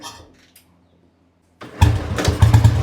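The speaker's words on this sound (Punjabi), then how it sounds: "ਇਹਨੂੰ ਸਟਾਰਟ ਕਰਕੇ ਦਿਖਾ ਇਹਦੀ ਕਿੱਕ ਮਾਰਿਓ ਇਹਦੀ ਆਪਾਂ ਸਟਾਰਟਿੰਗ ਦੇਖਦੇ ਆ" A motorcycle kicked over, a few quiet clunks and a pause, then the engine catches and runs loud and close with a throbbing idle.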